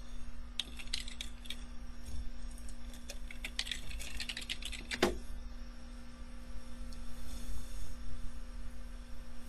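Keys tapping on a computer keyboard while entering a Linux terminal command, a quick cluster of clicks in the first half over a low steady hum, then quiet.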